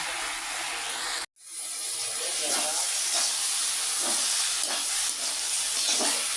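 Cabbage frying in a pan, a steady broad sizzling hiss that runs almost unbroken apart from one brief gap near the start, with no talk over it.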